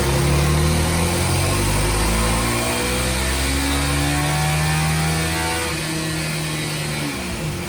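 Honda CRF300L single-cylinder motorcycle engine running on a dyno, a loud, steady drone that climbs in pitch as the revs build over several seconds, with no talk.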